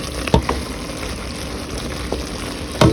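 Sautéed eggplant standing in for crab tipped into a pot of vegan cauliflower chowder, giving a steady soft sizzle with a few sharp clatters and splashes near the start and end.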